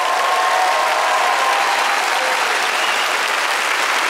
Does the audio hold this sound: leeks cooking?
no